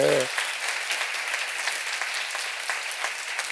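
A church congregation at a seminar bursts into dense, sustained clapping right after a brief voice at the start, the applause steady and full for the rest of the moment.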